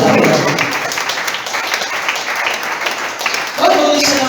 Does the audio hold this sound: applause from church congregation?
yes